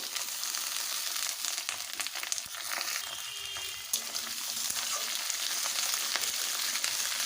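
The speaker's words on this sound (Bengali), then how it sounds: "পেঁয়াজ রসুনটাকে ভালোভাবে ভেজে নেব" Chopped onion and garlic frying in oil after whole cumin has been tempered, for mutton kosha, a constant crackling sizzle with scattered stirring scrapes and a brief lull midway, with no voices.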